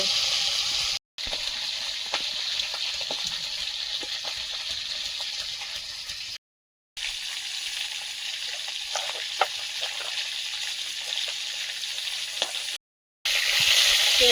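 Fish frying in hot oil in a kadai, a dense, bright crackle and sizzle that holds steady and close, with scattered sharper pops, cut by three brief drops to silence.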